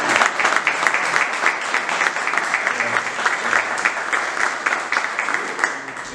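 An audience at a history lecture in Portuguese claps steadily and warmly for several seconds, a dense continuous patter of many hands in an indoor hall.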